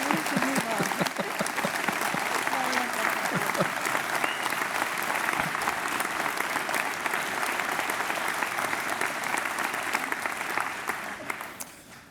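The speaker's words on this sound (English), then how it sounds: "A lot of applause." Graduation ceremony audience at Loughborough University applauding an honorary doctorate award, a thick, continuous wash of clapping from a big crowd that slowly tapers off at the very end.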